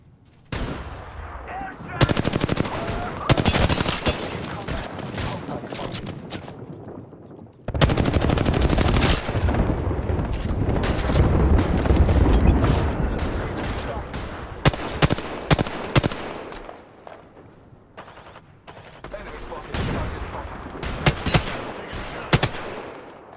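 A loud, sustained firefight in a military shooter game: rapid machine-gun bursts and dense gunshots run almost continuously, with heavy blasts and brief lulls between volleys.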